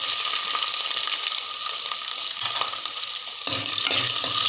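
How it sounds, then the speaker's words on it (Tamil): Small onions frying in hot oil, following crisp-fried vadagam, a steady dense sizzle up close with occasional stirring clatter and a brief dip before the hiss resumes. "அதில் நம்ம எடுத்து வச்சுருக்க சின்ன வெங்காயத்தை எல்லாத்தையும் போட்டுடலாம்"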